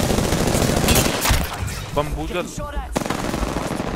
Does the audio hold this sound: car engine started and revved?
no